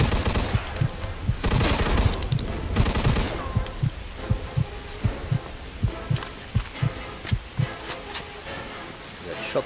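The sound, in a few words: Thompson M1A1 submachine gun fire in video game Mafia 2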